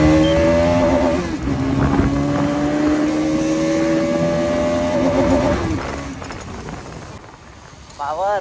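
A brand-new Bajaj Pulsar NS200 motorcycle engine on a morning ride, its steady, rising hum running continuously with wind rush, fairly close, with a voice talking over it.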